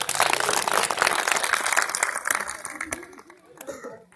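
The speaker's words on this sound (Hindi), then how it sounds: "तो आशीष नेगी के लिए जोरदार ताली।" Loud, dense clapping from a school audience at a quiz competition, applauding a student, fading out after about three seconds with scattered claps and murmurs at the end.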